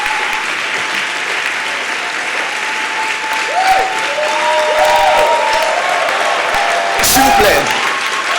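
A church congregation applauds at a worship service, with continuous clapping across the room and a voice speaking over it.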